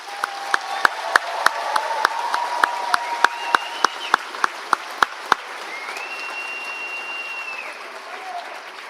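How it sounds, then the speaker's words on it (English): Graduates at a spring college convocation receive a round of applause from the audience, a steady wash of clapping with sharp single claps standing out, mid-distance, with faint background voices and no speech over it. "Let's give them another round of applause."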